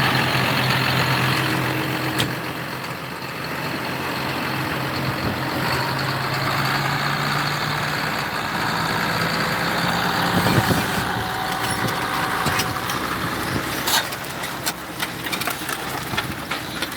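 A farm truck's engine runs nearby as a steady low rumble throughout, with occasional clanks and faint higher tones over it and no talking.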